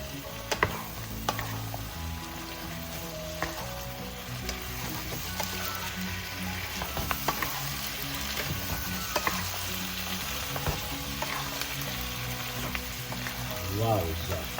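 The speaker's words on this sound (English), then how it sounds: "Give it a stir." Daikon radish frying in a pan for Filipino kilawing labanos, a steady sizzle with scraping and clacking as it is stirred, close and continuous with no talk.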